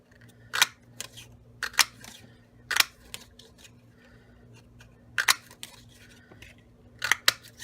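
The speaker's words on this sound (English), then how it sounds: "I'm just going to cut the 1-inch circles with this" Scissors or a paper punch cut 1-inch circles from paper scraps, with sharp, close snips in small clusters separated by quiet pauses.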